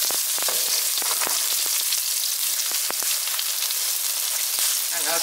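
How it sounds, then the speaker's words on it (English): Garlic, red onion and chili frying in a spoonful of cooking oil, a loud dense crackling sizzle with sharp pops, close and continuous without speech. "we add our 1 spoon of cooking oil, add our garlic, red onion, and chili together"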